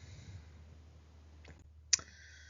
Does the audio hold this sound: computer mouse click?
yes